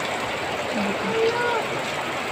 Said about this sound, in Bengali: আর অনেক পরিমাণে বৃষ্টি হইতেছে।